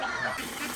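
Ducks near their coop let out a quick run of nasal quacks, close and moderately loud, over a brief stretch with no talk.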